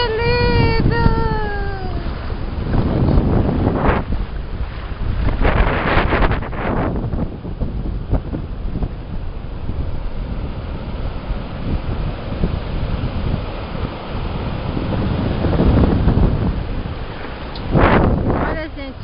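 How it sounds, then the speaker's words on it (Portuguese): Sea surf at Atalaia beach roars over strong wind buffeting the microphone, the waves washing in and out in swells while someone talks cheerfully through much of it. "Olha, gente, o mar, como é lindo."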